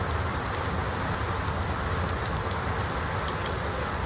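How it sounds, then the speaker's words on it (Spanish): Rain in the video game Farming Simulator 19, a loud, dense, unbroken hiss of falling water with no pauses and no talking. "¡Llueve!"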